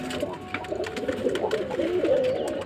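Pigeons coo in a loft, with soft, repeated throaty calls close by that overlap and roll on without pause across the short stretch.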